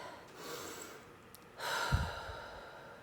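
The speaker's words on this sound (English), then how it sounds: "Close your eyes, take a deep breath." A single deep breath, a slow audible inhale followed by a longer, soft sighing exhale, close and clear with no talking over it.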